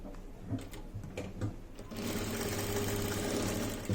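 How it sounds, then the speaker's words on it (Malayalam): Sewing machine running a double stitch through scrap fabric for a cloth plant pot, a few short bursts of stitching followed by a steady, continuous run at close range. "നമുക്കിവിടെ ഡബിൾ സ്റ്റിച്ച് കൊടുക്കാം"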